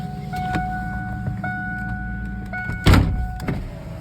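Power window motor on a Ford Mustang being restored, whirring in several short runs as the glass moves, with clicks of the switch between runs and a louder thump near the end; no speech.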